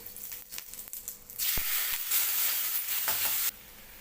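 Green chillies and tomatoes drop into hot oil in a kadai, breaking into a loud, steady sizzle that swells after a brief stir and then cuts off sharply.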